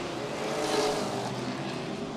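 Pro race trucks roar around a Florida track in a steady, moderately distant engine drone, with one truck's note swelling briefly as it passes.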